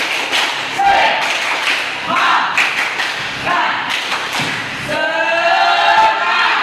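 A school class claps out a rhythmic spirit clap in a classroom, repeated bursts of many hands thumping in a patterned beat, mixed with voices chanting and talking throughout.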